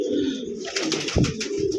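Pigeons kept for sale coo softly at close range, a few low throaty notes over faint rustling and background bird noise, with no speech.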